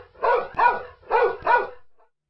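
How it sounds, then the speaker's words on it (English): A dog barks four times in two quick pairs, close and fairly loud, with short gaps between the pairs and no one talking. "the dog says,"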